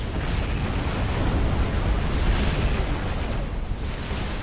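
Missile and artillery explosions from the strategy video game Wars of Glory, with missiles striking factories: a dense, loud, continuous rumbling roar of overlapping blasts that never lets up.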